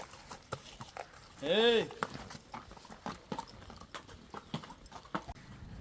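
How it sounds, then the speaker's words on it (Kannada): Hooves clip-clop at a steady walking pace during a horse ride at a centuries-old palace estate, under loud voices urging the horse along, with a brief sharp whinny-like cry near the start. "ಕುದುರೆ ಸವಾರಿ ರೈಡ್ ಮಾಡ್ದು, ಎಂಜಾಯ್ ಮಾಡ್ದು"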